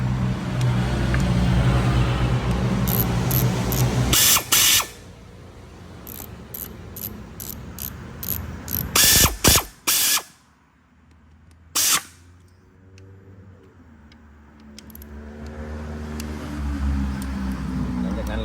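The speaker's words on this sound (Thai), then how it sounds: "ก็จะมาไขตัวน็อตสปริงก้ามปูนะครับ" Ratchet wrench loosening the clutch fork spring bolt on a Ford Focus mk3 with a 1.6 engine during gearbox removal, heard as quick clicking bursts and metallic clanks amid workshop noise, with someone speaking throughout.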